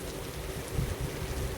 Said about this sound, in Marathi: पाणी कमी पडतंय, गारा जास्त पडतात, असा पाऊस आहे